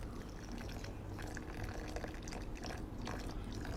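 Water poured onto a sediment-filled former lake bed, running down a flood path and washing eroded material along it, gives a steady, fairly quiet splashing trickle with no voices.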